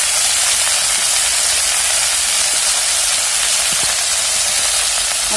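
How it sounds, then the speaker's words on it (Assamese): Dorun leaves and potato sizzle and fry in a pan over low heat, with a steady broadband hiss and a few faint clicks and pops, no voice. "এনেকৈ অলপ এতিয়া মই ভাজি লৈছোঁ।"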